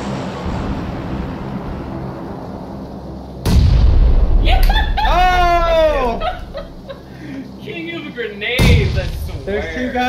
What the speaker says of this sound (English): That was another grenade.